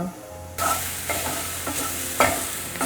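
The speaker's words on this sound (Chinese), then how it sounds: "香菇这样子炒一炒，会让它的菇味变得更鲜。" Shiitake mushrooms hit a hot pan and stir-fry with a sudden loud sizzle, then a few quick stirring scrapes and clatters as they are tossed, all close and without talk.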